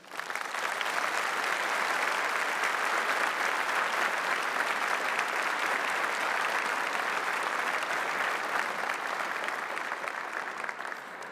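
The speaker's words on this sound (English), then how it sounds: "let's start with a round of applause for our graduating class" A large audience at a university graduation ceremony applauding the graduating class, a dense, sustained wash of clapping that swells quickly and holds steady for over ten seconds.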